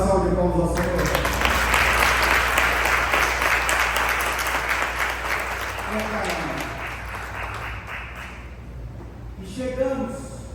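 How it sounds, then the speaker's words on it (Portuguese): Church congregation applauding, a dense burst of clapping that starts loud and slowly fades over about ten seconds, with voices speaking at the start and end. "Será que você vai dar uma salva de palmas ao Senhor?"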